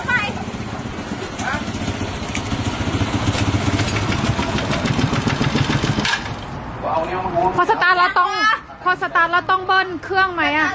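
An engine is revved hard, giving a loud, rough, pulsing roar for about six seconds. The roar then drops to a lower rumble while people talk close by.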